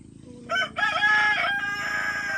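A rooster crows loudly and close by, one long drawn-out call with no talking around it.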